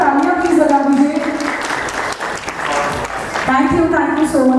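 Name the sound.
audience applause at awards ceremony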